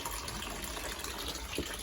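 Water from a garden water butt pouring into a bucket, a steady close gushing and splashing rush, quiet but continuous throughout.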